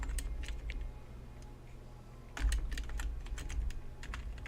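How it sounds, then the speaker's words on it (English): Typing on a new computer keyboard: steady, rapid clicking of keys close up in bursts, with a constant low hum underneath and no talk. "I can still not type on my new keyboard."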